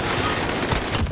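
Continuous automatic gunfire in Call of Duty Modern Warfare: a loud, dense burst of rapid shots that fills the whole moment with no pause.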